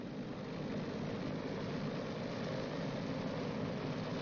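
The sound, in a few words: B-29 engines throttled up to 1,500 RPM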